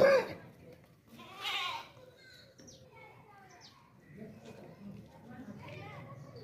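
A male goat bleats a couple of times amid the outdoor bustle of a goat sale, with people talking nearby and faint distant animal calls in the background.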